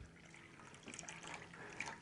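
Pouring 9.5 pH Kangen water into drinks indoors, a soft steady trickle of liquid filling a container for about two seconds, faint and close.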